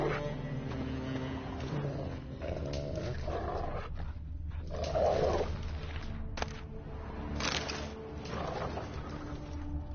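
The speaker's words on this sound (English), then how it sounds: "Just beware of the dogs." Dogs growling in a video game, low rough snarls and throaty roars running throughout amid ambient game sound, with a few sharp louder bursts.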